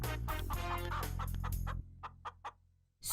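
Chickens clucking close by in a cartoon scene, a busy flurry of clucks and squawks followed by a few short separate clucks before a sudden burst of noise.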